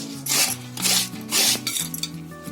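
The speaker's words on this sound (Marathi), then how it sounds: "त्याची साल काढून आहे ना हे आपल्याला किसणीवर किसून घ्यायचं आहे." A peeled raw potato is rubbed against a metal kitchen grater in three quick, rhythmic rasping strokes, close and crisp, followed by a few softer scrapes.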